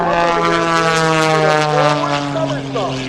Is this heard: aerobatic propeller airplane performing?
yes